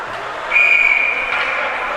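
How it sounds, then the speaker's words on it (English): Referee's whistle at a high school varsity ice hockey game, one steady shrill blast over crowd and rink noise, calling a hooking penalty. "And another whistle and a hooking penalty"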